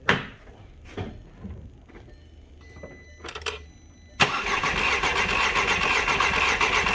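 Cranking of a 2010 VW Golf GTI engine with a cylinder 3 misfire: a few separate clunks and short whirring bursts, then a sustained loud, uneven engine roar in a workshop.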